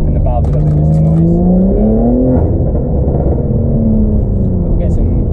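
BMW G80 M3 with its exhaust valve opened, accelerating on a road: a loud, continuous engine drone rising in pitch, with a voice talking over the top for much of the time.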